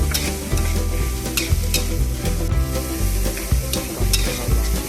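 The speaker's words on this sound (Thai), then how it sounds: "น้ำตาลอีกครึ่งช้อนโต๊ะ แล้วก็ผัดคลุกเคล้ากันอีกเล็กน้อย" Dry fish maw being stir-fried in a pan with stir-fry sauce and sugar: a continuous sizzle with spatula scrapes and knocks, close by, set against steady tonal background music.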